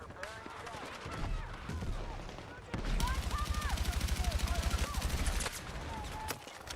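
A Battlefield 6 match with a long, rapid rhythmic burst of automatic gunfire, loud and close, flanked by scattered shots and other battle noise.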